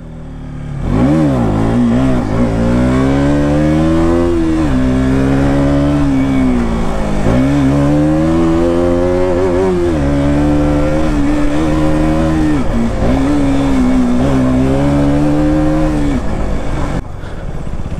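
An RC 200 remote-control car runs hard with a loud, continuous motor whine. The pitch climbs and drops in repeated revving sweeps for the whole stretch, then cuts off at the end.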